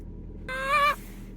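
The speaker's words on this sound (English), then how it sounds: "and this chicken here is Weezy." A pet chicken gives a single short, loud, nasal honk-like call up close, about half a second long, then falls quiet.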